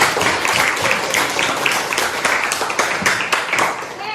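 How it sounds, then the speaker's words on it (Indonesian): A classroom audience gives steady, dense applause, with many hands clapping loudly and continuously and some voices mixed faintly into the sound. "tepuk tangan dulu dong"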